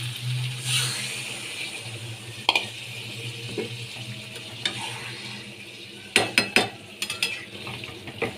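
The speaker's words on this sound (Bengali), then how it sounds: "এক বাটি জল আমি দিয়ে দিচ্ছি" Water from a bowl splashes into a hot frying pan of potato curry for aloo dum, giving a burst of sizzling and bubbling that settles into steady frying, with a few clinks of a utensil against the pan near the end.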